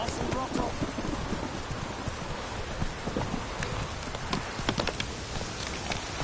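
Heavy rain pours steadily while a horse's hooves clip-clop along at a quick pace in The Witcher 3, with a voice speaking briefly over the downpour.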